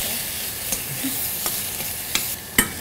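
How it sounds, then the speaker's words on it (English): White fish frying in a pan for an Italian seafood pasta, giving a soft steady sizzle with a few light scraping stirs as it is moved around, close and alone with no talking. "We'll put in the white fish. Any fish you like, as long as it's white."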